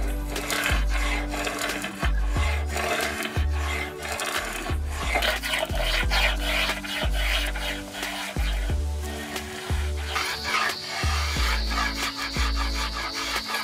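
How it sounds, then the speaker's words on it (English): A spokeshave shapes a square wooden paddle shaft toward round, giving repeated rhythmic rasping strokes, each a short scraping pull followed by a brief pause, close and fairly loud with no talk. "I use the spoke shave and just gently work it down from a square to a round"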